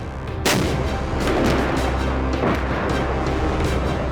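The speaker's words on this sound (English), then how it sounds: "drive an old Russian tank onto the northern ramparts and bombard the enemy" An old Russian tank fires its cannon from a fortress rampart in battle, one heavy boom followed by a long rolling rumble and further distant blasts.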